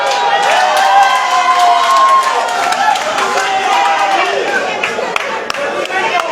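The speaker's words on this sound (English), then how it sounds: "a very rewarding, a very deserving round of applause from the fans" Fans at a pool match between Habibi and Maluva clap and cheer steadily, a dense close crowd of applause with a few raised voices running throughout.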